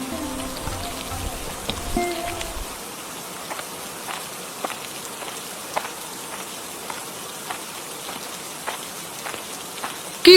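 Rain pours steadily in a Bangla cartoon scene, a constant close patter of drops on a surface with a few sharper drip ticks scattered through it.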